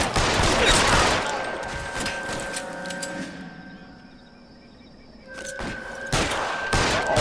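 A burst of gunfire in the video game L.A. Noire: rapid loud shots crackle at the start, fade into a quieter stretch with a steady tone, then a few more sharp reports follow.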